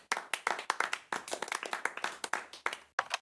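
A small group claps after a movie ends, a steady patter of close hand claps for about three seconds with a brief gap near the end.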